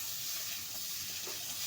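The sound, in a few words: tomato pieces frying with taro root in pan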